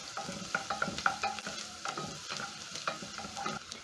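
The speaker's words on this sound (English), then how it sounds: "I'm going to add in 3 minced cloves of garlic, stir in, and then I'm going to cook until fragrant" Minced garlic and onions sautéing in a pot, a soft steady sizzle broken by repeated scraping stirs at an uneven rhythm, fairly quiet and close, with no talk.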